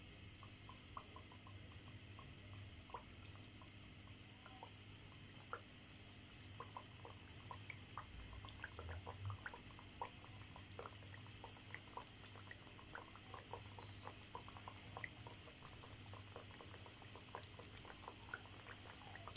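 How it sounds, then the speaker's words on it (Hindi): Chicken strips (sesame-coated) frying in hot oil on medium heat, a steady dense sizzle with fine crackling pops throughout, fairly quiet and continuous without talk. "अब हम इसको मीडियम आँच पे ही फ्राई करेंगे।"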